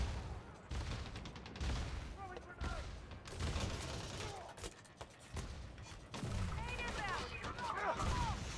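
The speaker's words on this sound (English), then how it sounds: "Who's shooting at me?" Video game gunfire crackles in irregular bursts and scattered shots, some near and some farther off, with clanks and impacts mixed in, while a voice talks faintly in places.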